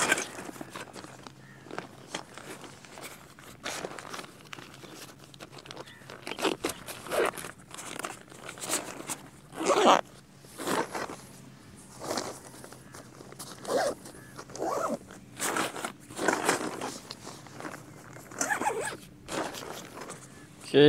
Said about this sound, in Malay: So kita kena rapatkan, rapat dan zip.